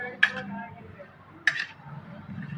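A spoon clinks against a bowl twice while mixing magani root pickle, sharp taps about a second apart over quiet room noise.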